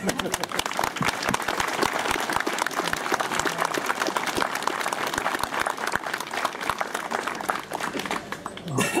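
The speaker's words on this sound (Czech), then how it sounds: "To zaslouží potlesk." A crowd at a Czech firefighters' event applauds with steady, dense clapping throughout. A few voices are faintly audible underneath, and the clapping eases slightly near the end.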